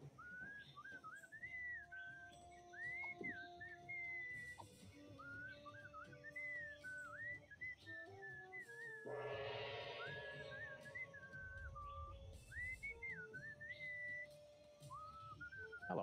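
Melodic whistling in the Sam and Max video game from Episode 2, Moai Better Blues: a clear, tuneful whistled melody carried over soft background music, with a brief whooshing swell midway through.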